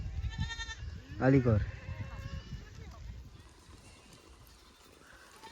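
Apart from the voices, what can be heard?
goats bleating in a herd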